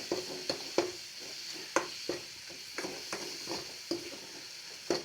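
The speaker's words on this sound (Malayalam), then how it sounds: "ഇത്രയും ഇട്ടതിന് ശേഷം നല്ല കണക്കിലൊന്ന് വഴറ്റി കൊടുക്കുക." Ingredients for rasam being sautéed in a pan, a soft steady sizzle broken by irregular scraping and stirring knocks of a spoon against the pan, close and alone without talk.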